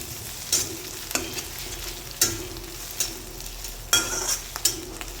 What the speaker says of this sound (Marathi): मी लसूण अद्रक कुटून टाकलेला आहे. हे पण छान मस्त याच्यात परतून घेऊ थोडंसं.